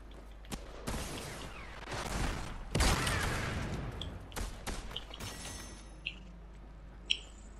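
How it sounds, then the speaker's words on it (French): In a Fortnite match, scattered gunshots and impacts crack at the player, with a loud burst early, a heavy thud midway and sharp isolated shots later, over quieter background game noise. "Il me tire dessus."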